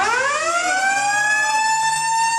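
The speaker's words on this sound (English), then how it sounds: "They hear the screaming sound of an air raid siren." A loud air raid siren alarm sounds inside a Planet Fitness gym, one steady wailing tone rising in pitch and then holding, with no voices over it.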